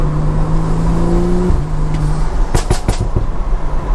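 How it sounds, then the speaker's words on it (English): A BMW F30 335i's N55 engine with loud exhaust drones loudly up close, its pitch rising then dropping with a short rev, followed by a few sharp exhaust pops and bangs over a continuous roar. "A lot of people say the N55 is the best sounding BMW engine."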